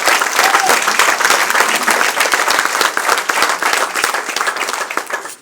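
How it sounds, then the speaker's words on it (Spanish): A church congregation applauds in praise of the Lord during a worship service, a dense, steady wash of many hands clapping close and loud for several seconds, fading at the end with no voices over it. "Denle un aplauso al Rey bendito."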